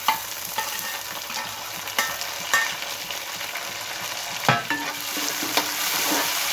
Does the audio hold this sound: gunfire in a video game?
no